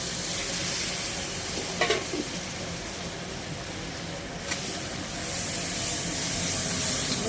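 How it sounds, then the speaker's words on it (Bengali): Water splashes into hot oil with frying ginger, garlic, onion, bay leaf and chili powder for chicken kosha, setting off a loud, continuous close sizzle with a couple of brief clicks from the pan. "এবার একটু হালকা করে, একটু অল্প করে জল দেব।"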